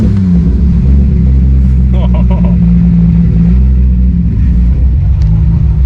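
A Toyota Supra's engine fires up and holds a loud, close, deep rumble for the whole stretch, with a brief rev swell partway through and muffled voices mixed under the engine noise.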